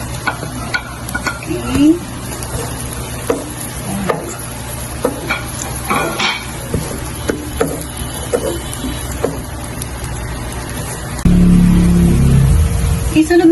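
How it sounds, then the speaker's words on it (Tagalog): Garlic and onion sautéing in a pan, sizzling steadily while a spoon stirs and scrapes through them. The clatter comes in irregular bursts, a brief word is spoken, and a louder rumbling hiss swells near the end. "Down na rin yung ating bawang. Isusunod natin yung sibuyas."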